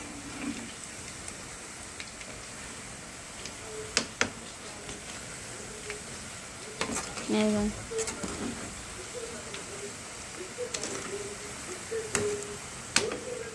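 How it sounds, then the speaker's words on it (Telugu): French fries deep fry in hot oil with a continuous crackling hiss and scattered pops, while a person talks over the frying. "మొత్తం ఫ్రై అయ్యేటప్పుడు చూపిస్తాను చూసేయండి మన ఫ్రెంచ్ ఫ్రైస్"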